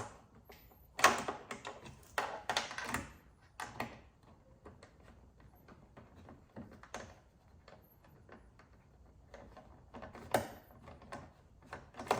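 Nut being tightened on a Tesla Model Y taillight: irregular, fairly faint mechanical clicks and ratcheting taps, some in quick clusters, with quiet gaps between and no talking.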